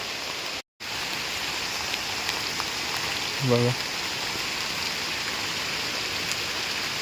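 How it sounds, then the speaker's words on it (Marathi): Light rain falls near a village river in a steady, even hiss of drops, with a brief voice near the middle. "तर आता पाऊस कमी झाला असं वाटतंय"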